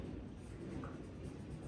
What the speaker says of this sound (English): I'm going to erase this part here.